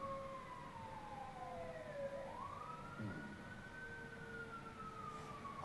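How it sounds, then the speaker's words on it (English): Wailing fire engine sirens rise and fall over a steady low road rumble, sounding somewhat distant but clear, overlapping tones sweeping up and down. "These fucking sirens are so loud."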